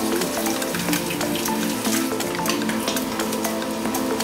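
A pot of sinigang soup for shrimp boils on the stove, giving a dense, steady bubbling and sizzling hiss with sharp little pops and clinks throughout.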